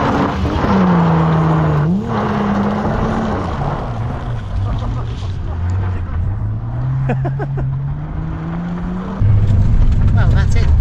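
A car drives through a forest, its engine droning and shifting pitch as it revs and eases, loud and close, with people talking over it.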